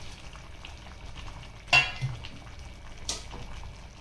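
Mutton frying with onions in butter and oil gives a low, steady sizzle under two sharp metallic clinks of a spoon against the pot as it is stirred.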